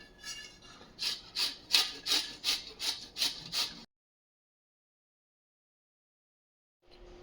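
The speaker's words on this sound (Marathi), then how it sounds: "कैरीची सालं काढून झाली की ही कैरी आपल्याला खिसून घ्यायची आहे" Peeled raw mango rubbed against a grater, about eight rhythmic rasping strokes close up, followed by a few seconds of silence.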